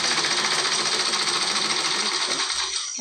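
A sewing machine stitching a saree fall hums in a fast, continuous, close buzz for a few seconds before slowing and stopping at the end.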